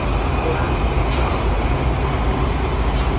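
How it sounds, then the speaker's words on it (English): A Washington Metro blue line subway train runs on, a steady loud rumble of wheels and motor that fills the car throughout. "This is a blue line train to Largo Town Center."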